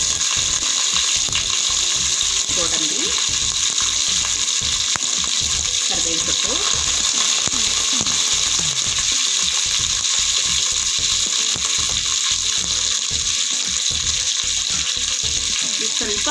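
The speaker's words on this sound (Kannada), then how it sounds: "ನೋಡಿಪ್ಪ ಪಾತ್ರೆ ಇಟ್ಟಿದ್ದೀನಿ ಎಣ್ಣೆ ಸಾಸಿವೆ ಹಾಕ್ಕೊಂಡಿದ್ದೀನಿ" Mustard seeds spluttering in hot oil in a pan for broken wheat upma, a loud continuous sizzle with rapid crackling pops throughout, with a voice speaking at times.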